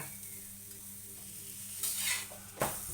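Cheese paratha frying on a pan with oil and ghee, a steady soft sizzle throughout, swelling briefly louder near the end as it is flipped, with a short scrape of a spatula.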